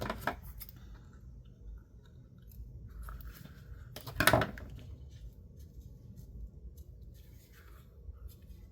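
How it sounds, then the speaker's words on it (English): Scissors trim threads in a quiet room while a crayon box junk journal is being made, giving a few sharp snips, one near the start and a louder one midway, amid faint handling rustles. "Just trimming some of my threads there"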